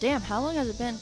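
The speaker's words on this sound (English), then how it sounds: "You can probably hear the cicadas in the background too because I am" Cicadas droning outdoors, a steady insect buzz sitting in the background beneath a man's close, clearly dominant speech for the whole second.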